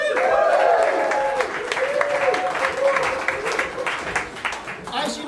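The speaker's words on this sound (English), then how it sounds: "big round of applause, please, for the first sacrificial poem of the night" A poetry slam audience in Bristol claps and cheers for the first poet, loud and dense at the start, then settling into uneven clapping with voices mixed through it.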